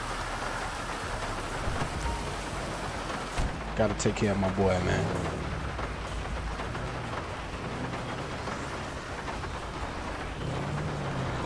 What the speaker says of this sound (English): Go out there on this rainy day.